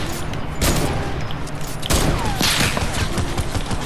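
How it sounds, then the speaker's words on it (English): Rapid bursts of automatic weapon fire in Fortnite ring out in a dense, continuous volley lasting several seconds, with sharp broadband cracks repeating over a busy game background. "Oh, you using automatics."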